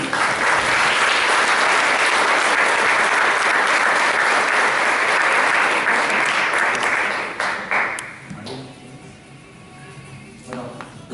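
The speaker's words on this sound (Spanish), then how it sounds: "Un aplauso para Jaime." Sustained loud audience applause at a Spanish-language entrepreneurship event, a thick wash of clapping that holds for several seconds, then thins to scattered claps as a voice begins speaking over the fading sound.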